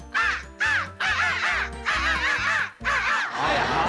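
A man imitates a crow's caw on a television variety show stage, giving about five loud, harsh, nasal caws in quick succession, each cut off by a short pause.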